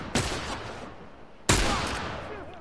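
Two loud pistol shots from the video game Grounded, spaced about a second and a half apart, each a sharp crack followed by a decaying echo.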